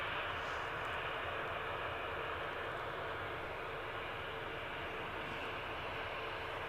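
An EasyJet airliner on final approach into Edinburgh, its engines a faint, steady distant rumble.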